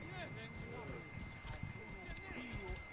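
Horse hooves pounding at a gallop in Assassin's Creed Origins, a steady rapid clatter running throughout under a continuous game soundscape with a voice talking over it.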